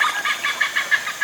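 A hornbill calls from a coffee-growing area in Central Kalimantan, a rapid series of harsh, pulsing cackles repeating steadily for about a second, fairly clear and alone.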